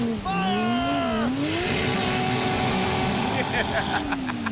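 A 1968 Dodge Charger's 440ci V-8 revs hard and holds against the rev limiter, a loud, close, sustained engine roar, with voices talking over it.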